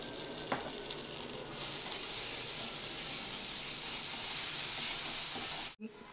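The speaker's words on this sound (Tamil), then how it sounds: "கொஞ்சம் ரெட் சில்லி சாஸ் ஊற்றிக்கலாம்." Red chilli sauce goes into mushroom pav bhaji sizzling in a hot pan, making a close, steady frying hiss that grows louder after a moment and ends with a brief clatter.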